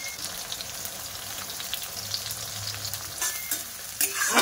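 Finely chopped onion fries in a pan for a rustic spicy fish dish, giving a constant close sizzle with soft stirring scrapes and a louder stir near the end.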